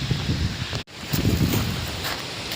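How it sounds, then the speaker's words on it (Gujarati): Strong wind roars through trees on a farm as a storm approaches, a steady broadband rush with rustling gusts, briefly cutting out for a moment before surging again. "જો મિત્રો પવન બહુ છે,"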